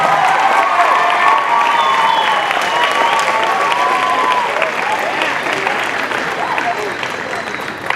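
A school assembly audience at a high school claps in sustained, dense applause that fills the room, then slowly tapers off, with no speech over it.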